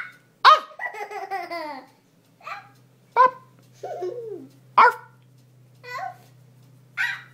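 A voice imitating a dog barking: close, loud, short yelping cries in separate bursts with pauses between, mixed with giggly babbling.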